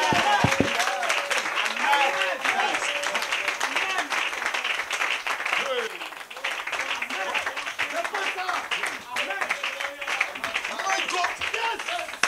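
A church congregation applauds with dense, continuous clapping throughout, while excited voices and cheering mix in beneath and over the claps.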